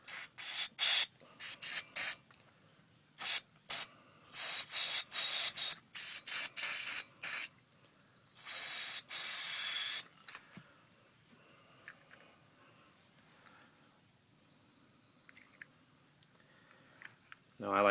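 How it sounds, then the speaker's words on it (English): Brake cleaner sprayed into the axle vent of an M35A2 military truck: a string of loud hissing aerosol bursts of varying length over the first ten seconds, then quiet handling noises. "Clean out with some brake cleaner."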